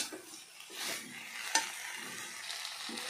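Drumsticks in mustard and poppy seed paste fry quietly in a pan, a faint sizzle with soft stirring scrapes and one brief metallic clink of a utensil.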